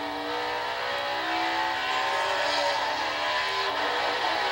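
A NASCAR race car engine screams at high revs and climbs through the gears on a qualifying lap at Watkins Glen, loud and sustained, with pitch sweeping upward and dropping at each shift.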